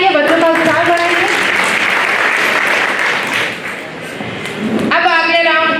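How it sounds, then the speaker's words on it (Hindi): Audience clapping loudly for children at an activity event, a dense steady burst of applause that fades slightly before a voice speaks over music at either end. "तो ताली एक बार जोर से बनाइए, बच्चों का उत्साह बढ़ाइए।"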